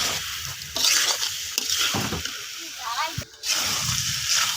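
Boiled eggs and potatoes are stir-fried in spice masala, a wet sizzling hiss with scraping stirs and brief sloshes, close by, while a person talks over it.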